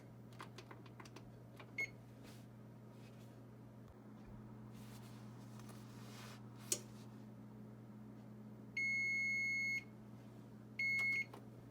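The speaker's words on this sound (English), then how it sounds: "set timer for another 2 to 3 minutes" An oven timer sounds while nachos bake, first a long steady electronic beep and then a shorter one, over a quiet low kitchen hum.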